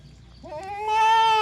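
A goat lets out a single rising bleat near a livestock sale, starting soft and swelling into a loud, wavering cry that holds to the end.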